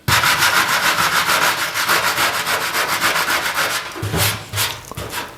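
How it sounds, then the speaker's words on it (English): A wire brush scrubs rusty patches on a car body in fast, rhythmic, close strokes, a loud, harsh scratching that pauses briefly near the end, with no talk. "let's start here by these original rusty patches and see what a wire brush will do to it"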